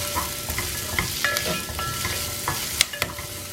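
Chunks of garlic and a small piece of ginger fry in a pan, crackling up close while a spoon stirs with sharp clinks and scrapes against the metal.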